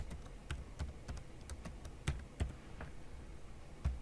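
Password being typed on a computer keyboard during a server login, a fast irregular run of crisp key clicks with a few louder strokes, close and alone without speech.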